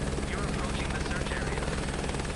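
A turbine helicopter in Microsoft Flight Simulator 2024, flying near its maximum altitude ceiling, gives off a loud, steady rotor and engine drone with a rhythmic blade thump and a high whine, heard close and continuous.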